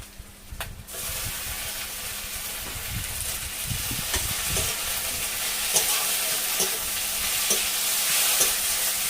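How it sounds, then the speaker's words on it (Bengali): Ginger and garlic frying with onions in a pan for a catfish curry, stirred steadily: a continuous close sizzle broken by repeated scraping strokes of the spoon, with no talking. "আদা রসুনটা ভালোভাবে পেঁয়াজের সাথে কষে নেব।"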